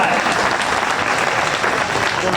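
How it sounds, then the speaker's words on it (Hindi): Dense, steady applause from an audience at an all-India Hindi poetry gathering at a fair in Chhatarpur, a continuous rush of many hands clapping close and loud with no break. "दोनों हाथ अपने आकाश पर उठाइए और तालियों की गड़गड़ाहट से सूचित करिए कि कार्यक्रम प्रारंभ होने जा रहा है"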